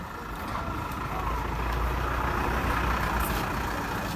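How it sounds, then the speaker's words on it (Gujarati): A vehicle's engine starts up and runs with a steady low rumble while it reverses, a continuous loud drone with faint high tones above. "ચાલુ કર ગાડી ચાલુ કર"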